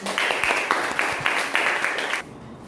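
Clapping from a small classroom group during a lesson, a short burst of fairly close claps that stops abruptly near the end, leaving near quiet.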